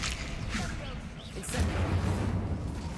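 Bombarda and Confringo spell blasts in the Hogwarts Legacy video game, a steady rumbling barrage of muffled explosions that swells louder in the second half, with a voice speaking over it.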